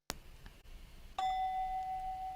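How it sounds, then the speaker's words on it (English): A single clear bell strike rings out sharply, then a second, brighter tone sustains and slowly fades in a quiet room. "Did you hear the bell?"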